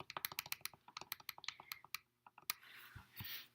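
Quick bursts of small plastic key presses on a calculator as two equations are entered, fast irregular clicks up close, then a pause and a few final taps over faint room hiss.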